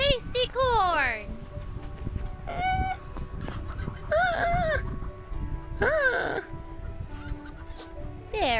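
Chickens cluck and squawk in a farmyard at feeding time as corn is scattered, with harmonic bird calls arriving in bursts over a steady background bustle and a voice speaking among them.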